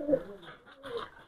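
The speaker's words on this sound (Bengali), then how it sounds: "এখানে কিছু বেবি আছে দেখেন জিরা গোল্ডেন টেডি জেনারেশনের কবুতর" Young pigeons of a golden teddy breed give a short, soft burst of cooing, close by and alone for about a second.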